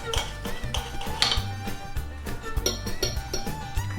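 Knife and fork working through a broiled pork chop on a plate, giving a run of light clinks and taps of cutlery against the dish, close and fairly steady over low background noise.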